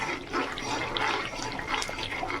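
Raw prawns dropped into a simmering yogurt gravy for Bengali doi chingri, giving a steady, fairly loud wet bubbling and sizzling hiss with soft splashy stirring, no talking.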